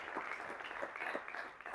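Applause playing back in a recording of a speech during a Catalan book presentation, faint, dense, steady clapping throughout a short stretch, distant and muffled.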